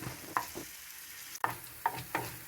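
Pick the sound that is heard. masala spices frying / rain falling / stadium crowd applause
masala spices frying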